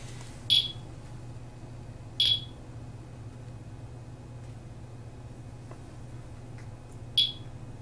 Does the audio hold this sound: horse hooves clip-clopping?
no